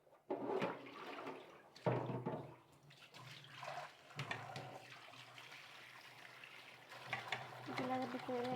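Cut potatoes and beans are washed by hand in water, with repeated splashing and sloshing bursts that swell and fade close by, and a voice briefly heard near the end.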